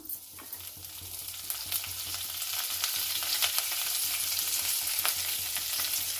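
Curry leaves crackling and frying in hot oil with cumin seeds for a brinjal onion curry, a steady sizzle with occasional sharp pops and faint utensil stirring, close and alone.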